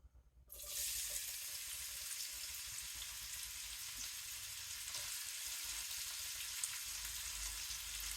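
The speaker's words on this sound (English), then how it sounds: "We add our onions first because they have moisture in them as well, and we want to fry that up." Onions hit a pan of hot bacon fat and burst into a loud, steady sizzle that starts abruptly after a brief quiet moment, continuing as a dense, close hiss with faint stirring.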